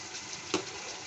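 Spices sizzling in hot oil for Bengali khichdi, a steady close hiss broken by one short clink near the middle.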